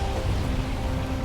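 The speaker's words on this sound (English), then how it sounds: "Whoa. It's getting stormy. Oh, it's raining fire too. Oh my god, and there's more lightning." Steady rain hisses in a dense, continuous wash during a stormy sea journey in the video game Valheim, with no voices.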